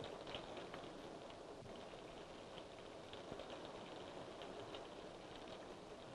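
Steady rain falling in a dense, even hiss with scattered drop patter, constant and fairly faint throughout, with no voices.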